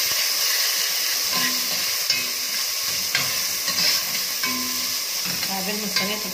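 Potatoes frying in a pan, with a steady sizzle and hiss of hot oil and occasional scraping and clinks as they are stirred close by.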